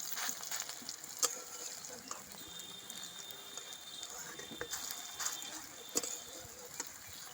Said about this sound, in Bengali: এরকম ছোট ছোট করে ভাজলে এই ডালের বড়াটা টেস্টি হয় ভালো